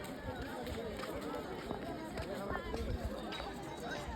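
Dense crowd of people at a busy temple on a Thursday, a constant hubbub of overlapping voices and shuffling movement close around, with louder nearby chatter.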